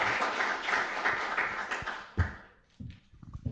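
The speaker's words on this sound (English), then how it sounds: "Maybe it's time for a round of applause for our speakers" Applause at a summit panel on cities of tomorrow, moderate and fairly dense for about two seconds, then dropping off into a few scattered claps.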